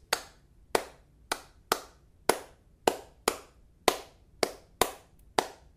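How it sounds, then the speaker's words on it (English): A tresillo rhythm clapped by hand, eleven sharp, dry claps in an uneven repeating three-three-two pattern, close and clear with no voices. "This rhythm is called tresillo"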